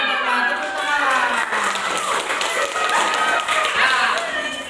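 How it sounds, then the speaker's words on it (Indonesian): Schoolchildren clapping together in a classroom during a teaching session, a steady, busy patter of many small hands lasting throughout, with some voices mixed in. "Tepuk tangan."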